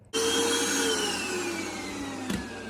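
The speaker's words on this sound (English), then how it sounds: "I get a couple questions about the vacuum cleaner that I use" A Whole Life vacuum cleaner hums steadily and loudly while a room is cleaned, its motor whine holding a constant tone that dips slightly in pitch, with a brief bump partway through.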